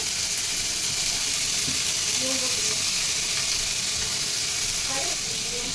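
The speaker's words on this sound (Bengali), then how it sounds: "গরম হয়ে গেছে এবার দিয়ে দেবো গাজর কুচি ক্যাপসিকাম কুচি পেঁয়াজ কুচি একসাথে দিয়ে দেবো আমি" Chopped carrot, capsicum and onion dropped into hot mustard oil in a pan: a loud, continuous sizzle with close-up hiss and occasional stirring scrapes, steady throughout.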